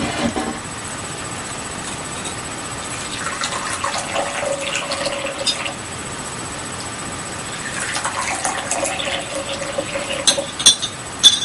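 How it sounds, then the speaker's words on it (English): Water is poured into small tea cups for sencha, a light trickling splash in two separate pours with a faint background hum between them. "Then I'm going to pour it into the cups I'm about to use"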